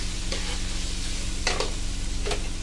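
Carrots and capsicum fry in a pan over a wood fire, with a steady hiss under a few brief scraping stirs. No one speaks.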